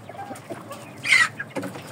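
An Indio Gigante chicken clucks close by, a few short calls with one louder burst in the middle, over a quiet yard background.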